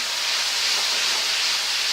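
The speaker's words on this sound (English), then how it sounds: "I'm going to get a nice sizzle there." Steady, loud sizzling hiss of breakfast pork patties frying in a hot pan, continuous without pauses or voices.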